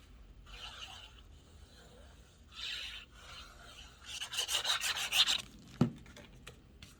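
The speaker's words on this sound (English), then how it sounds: "Just gonna burnish that from the inside." A paper folio panel for a scrapbook or junk journal is burnished from the inside: several soft, close, dry rubbing strokes, then a quicker burst of rubbing and a single light knock near the end.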